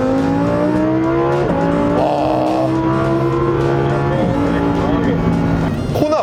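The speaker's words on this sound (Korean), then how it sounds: "다운시프트를 하면서 들리는 이 배기음과 엔진 사운드도 진짜 예술이지만" A naturally aspirated V10 Lamborghini Huracán engine roars loudly and close on a racetrack, with sharp pitch drops and blips as it downshifts repeatedly under hard braking, exhaust crackling between gear changes.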